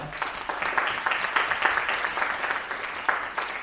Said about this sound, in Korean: 김영찬 회장님에게 큰 박수 한번 부탁드리겠습니다